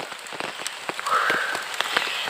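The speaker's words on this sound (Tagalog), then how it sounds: "Nakapayong pa kasi umulan-ulan." Rain patters on an umbrella during a mountain hike, a dense, close stream of small irregular taps over a steady hiss, with no talking.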